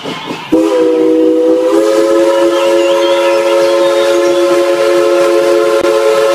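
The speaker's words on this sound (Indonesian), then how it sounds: "ada kereta Thomas berwarna biru" A sustained train whistle from a blue Thomas toy train blares loud and steady after a brief quiet start, held as one continuous toy train sound with no talking.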